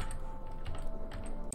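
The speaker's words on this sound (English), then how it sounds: "And now I'm just typing stupid messages." Computer keyboard typing chat messages during Starbound play, a steady patter of soft keystrokes heard close under a low background hum.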